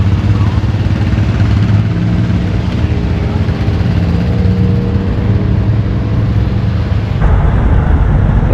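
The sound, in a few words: International Harvester 756 high crop tractor mowing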